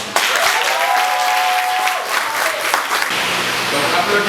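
An audience applauds pupils at a World Book Day celebration and spelling contest in Diourbel, loud continuous clapping from a crowd with a voice speaking over it early on.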